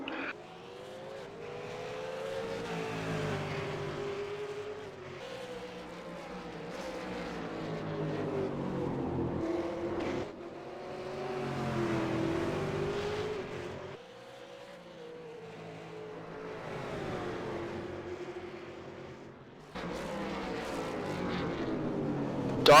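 Race cars on a circuit sweep past in waves, engines rising and falling as drivers brake hard into corners and accelerate out, a continuous loud motorsport roar with no talking.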